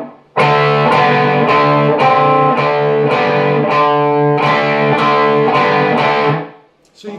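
A distorted electric guitar plays a steady riff of repeated picked chords, loud and close, cutting off into near silence at the end.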